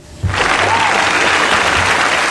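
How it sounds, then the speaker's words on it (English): An audience breaks into applause, a sudden burst of dense clapping that holds steady and loud until the end. "get a little applause for that one"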